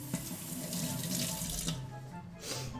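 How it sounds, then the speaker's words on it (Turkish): Water runs steadily from a sink tap in a home kitchen, a continuous splashing hiss that stays loud and close for the whole stretch with no talk over it. "Lavabo bana blip blip yapıyor da hayırdır yani."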